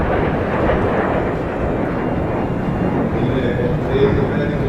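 Military aircraft flypast of a Sukhoi 30 MKI with an AEW&C Netra aircraft: a loud, steady, broad jet roar filling the whole span, with a commentator speaking over it.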